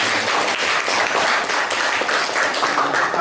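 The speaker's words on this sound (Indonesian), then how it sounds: "beri tepuk tangan untuk kelompok 5" Steady applause from a classroom group of students, a dense even wash of clapping lasting throughout without pauses.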